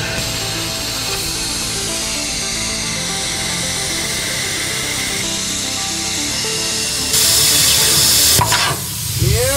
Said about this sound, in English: And we just got the plasma cutter hooked up. So we might as well give it a go.